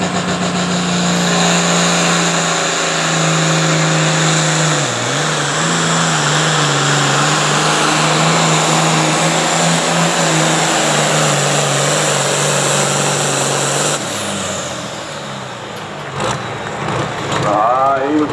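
Pulling tractor engine at a truck and tractor pull in Caldwell, Ohio, a loud sustained roar running for over ten seconds before dropping off, with an announcer talking over it.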